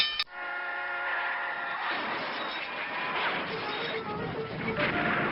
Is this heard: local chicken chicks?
no